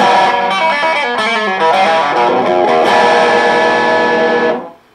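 A heavily distorted electric guitar plays a few loud strummed chords and notes through a Laney amp, ringing out, then cutting off at the end.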